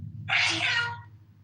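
A single sharp sneeze bursts out, loud and close, lasting under a second against a low background hum.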